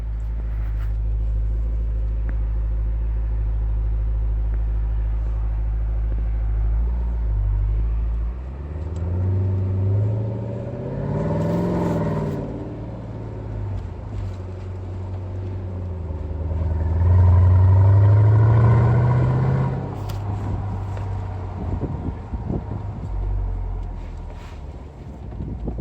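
Exhaust of a 2019 Dodge Durango SRT with the 6.4-liter 392 V8, opening with a deep idle rumble, then two loud revving surges that rise and fall, heard up close with no talking.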